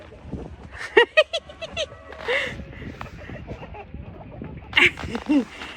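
Chickens cluck and squawk in short bursts, mixed with background chatter and other faint sounds nearby.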